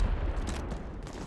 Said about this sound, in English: confirm this explosion of the generator